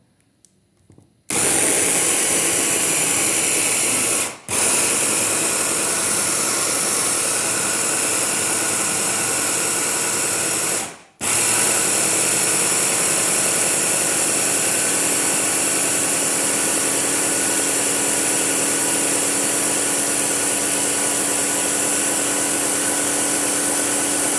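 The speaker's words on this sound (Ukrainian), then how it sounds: "Висипаємо в міксер. Починаємо його." A kitchen mixer blends bananas and eggs into a batter, starting abruptly with a loud, steady high whirring drone that briefly stops twice before running on without a break.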